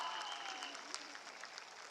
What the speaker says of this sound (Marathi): महामानव डॉक्टर बाबासाहेब आंबेडकरांसाठी एकदा जोरदार टाळ्या होऊन जाऊ द्या